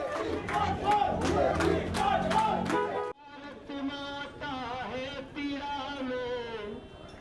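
Crowd at a BJP election rally for Manoj Tiwari, a loud massed chant with rhythmic shouted beats, then a sustained melodic chant from many voices carrying on.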